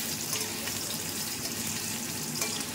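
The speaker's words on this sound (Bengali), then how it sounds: "আলুগুলো একটু ভেজে নিচ্ছি" Potatoes fry in a pan with a steady, close sizzle and light crackle. The sound holds at an even level for the whole stretch, and no one speaks over it.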